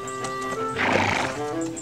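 Horse whinnying loudly near a warehouse stable with delivery horses, a rising neigh in the middle over steady hoof clip-clop, close and clear with no talk.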